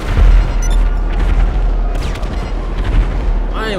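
Massive barrage of missile explosions in GTA 5 with a Transformers mod, a constant loud rumbling boom with repeated blasts layered over each other, continuous for the whole stretch.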